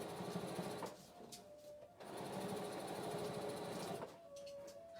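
A sewing machine stitches a quilt in steady close bursts of rapid mechanical whirring, stopping briefly twice between runs, with no talk over it.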